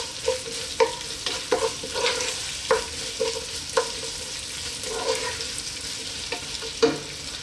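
Garlic and vegetables frying in a pot for a thick vegan minestrone, a steady soft sizzle broken by repeated sharp stirring clacks of a utensil against the pot every second or so.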